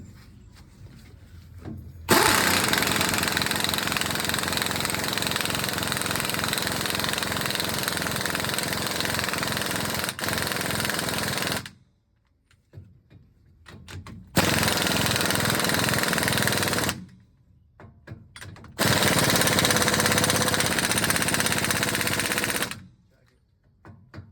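An impact gun hammers in three long, loud bursts while setting pinion preload against the crush sleeve on a Sterling 10.5 axle from a 2000 Ford F350, with quiet pauses between bursts.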